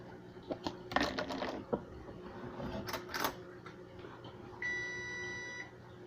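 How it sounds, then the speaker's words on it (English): An electronic oven preheat beep, one steady tone held about a second, sounding after some clattering kitchen noises in a quiet room. "I just preheated my oven. That was the beep you heard."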